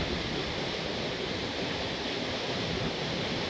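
Waterfall at the foot of the falls, fed by snowmelt from Osorno volcano in Chile, a close, steady, loud broadband roar of falling water without a break.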